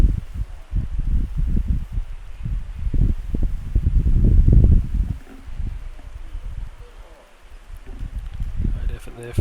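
Wind gusting across an outdoor court at a junior singles tennis final, roaring and buffeting the microphone loudly in swelling waves that build, ease and return.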